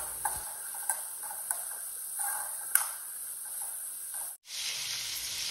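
Onions, green chilies and curry leaves fry in a pan for an aloo matar gravy, a steady close sizzle with a few sharp ticks and clinks of stirring, briefly cutting out near the end before resuming.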